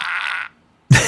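A novelty fart pen lets out a loud, wet-sounding fart noise, then falls silent before a second harsh burst close by.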